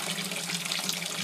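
Water pours steadily from a tap into a sink while wool is being washed, a continuous close splashing rush with no pauses or voices.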